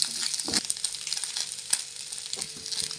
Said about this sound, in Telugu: ఈ చికెన్ని ఫ్రై చేస్తున్నాను ఇప్పుడు, వేపుడు.